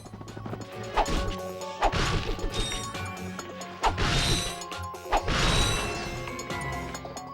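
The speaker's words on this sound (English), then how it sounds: "Just be sure to destroy it all when you're done so you can get all of the bolts." Crates smashing in the Ratchet & Clank video game: a wall of boxes broken apart in a string of sharp crashes and thwacks, with mechanical clinks and a game music bed running underneath.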